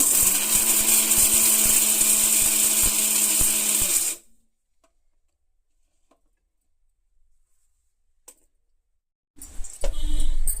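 A kitchen mixer grinder crushes chutney ingredients into powder, a loud steady whirring grind for about four seconds that cuts off into silence, then starts again briefly near the end.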